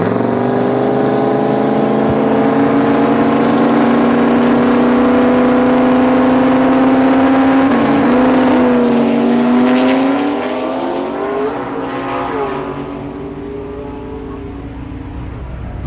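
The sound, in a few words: drag racing cars revving engines and winding up turbos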